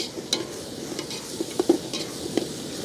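A ground paste of onion, coconut and garlic masala is sautéed in a pan for home-style ghee chicken dum biryani, giving a soft, low sizzle broken by a few scattered stirring scrapes and taps, close by and fairly quiet.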